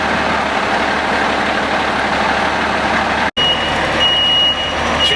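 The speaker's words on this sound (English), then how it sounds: "here you also get a buzzer coming from the side at the pump" Pump engagement buzzer on a 2007 KME fire engine sounds from the side of the truck at the pump panel, a steady loud tone over the rumbling idle of the engine, with a brief cutout midway.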